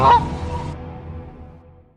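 A single loud goose honk rings out sharply at the start, then fades away in a trailing echo over the next couple of seconds, with nothing else heard.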